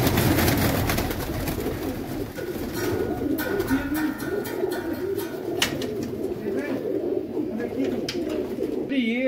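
Pigeons cooing in a loft with several birds, soft repeated low coos and rustling close by, while someone talks over them throughout.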